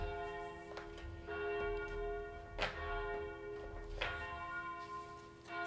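A church bell rings loudly and close, its rich sustained tone sounding in repeated strikes every second or so and ringing on between them.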